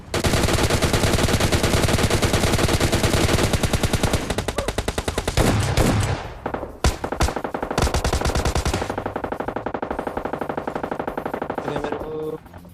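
Rapid automatic gunfire in the video game PUBG Lite, long loud bursts of fast shots, a brief pause, then more sustained firing with a few scattered single shots near the end.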